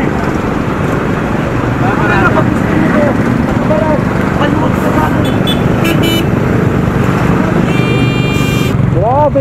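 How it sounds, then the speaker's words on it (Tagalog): Dense road traffic with cars and motorcycles on a congested road near Metro Manila Hills, a steady loud engine roar with several horn toots near the end and people talking over it. "Grabe yung traffic talaga."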